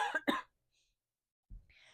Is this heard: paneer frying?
no